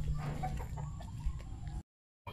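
Chickens cluck softly in a quick, irregular series on a farm, fairly faint against a low background hum, cutting off briefly to silence near the end.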